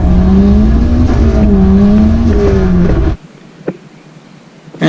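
A car engine revs hard and wavers as its clutch slips under 13 pounds of boost, loud and close for about three seconds before cutting off abruptly into near quiet.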